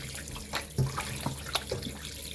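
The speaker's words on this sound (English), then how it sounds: "I continue to wash my meat until I am satisfied that it" Raw pork being rinsed under a running kitchen tap, a steady close wash of water with soft splashes and handling noises as the meat is turned, no talking.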